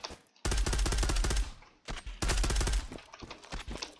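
Rapid automatic gunfire from the online shooter Zula, two long loud bursts of dense shots with a short gap between, followed by scattered softer shots.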